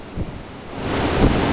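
Blustery wind roars outdoors on a windy California morning, a broad rushing noise with microphone buffeting that swells louder toward the end.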